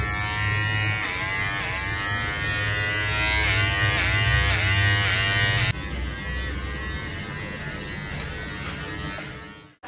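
Electric clippers buzz continuously and close up while trimming a pet's fur, including around the front of the legs, the motor pitch wavering as the blades work through the coat before cutting off abruptly at the end.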